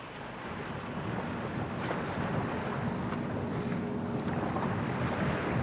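Sailboat sailing close-hauled on the starboard tack at night, a steady rush of wind and water noise with microphone buffeting, continuous and fairly loud, no talk.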